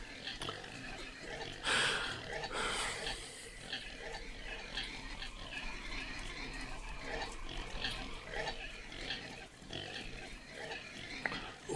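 Pigs in a video game grunt and oink quietly and repeatedly over a soft background hum, with a louder burst of squealing early on.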